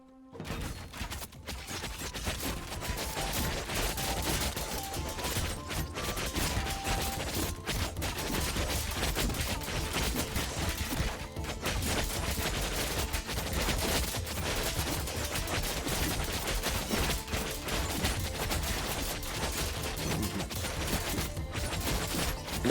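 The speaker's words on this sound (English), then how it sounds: "Enough archers are shooting down here." Archers in the video game Thronefall loose volleys in battle, making a dense, continuous barrage of rapid shots and impacts at moderate level, sustained throughout with no talking.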